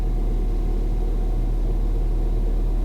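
Steady, even idle from a Ford Fiesta ST engine running without misfires, a loud continuous low rumble close to the car, uninterrupted and alone.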